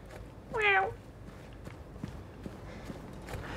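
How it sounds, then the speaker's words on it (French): A single cat meow, clear and fairly close, inside the foggy world of the horror game Silent Hill 2, followed by soft footsteps. "Chat en approche."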